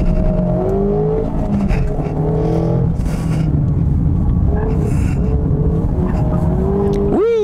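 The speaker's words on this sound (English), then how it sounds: "Having fun in the Miata." A Mazda Miata MX-5 sports car drives hard on a race track with a steady engine drone, gears shifting as it revs; a voice talks briefly over it near the end.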